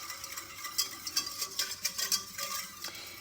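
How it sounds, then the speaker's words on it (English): A spoon stirs milk into a butter and flour roux in a pan for mac and cheese, with soft scraping strokes recurring in a steady rhythm under a faint sizzle, close and fairly quiet, with no talking. "I'm gonna just slowly add some and stir it in so it all gets combined"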